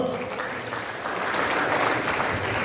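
A church congregation claps during a sermon, producing a continuous wash of applause from many hands that swells slightly toward the end, with no clear voices on top.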